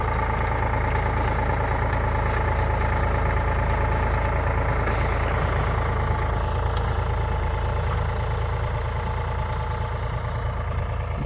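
A tractor pulling a 29-tooth seed drill while sowing Nashik onion seed on a seven-bigha plot, its engine holding a steady, loud low drone for the whole stretch, with no talking.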